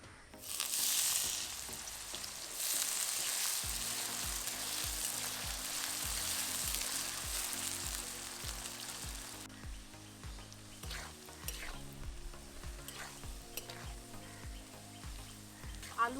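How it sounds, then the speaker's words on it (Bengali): Potatoes frying in hot mustard oil in a wok, a steady close sizzle with occasional stirring clicks and spatter throughout. "এখন আলুগুলি ভেজে নেব।"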